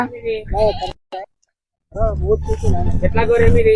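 White sheep bleating loudly and close in a village, several overlapping cries after a brief silence, with a person speaking in between.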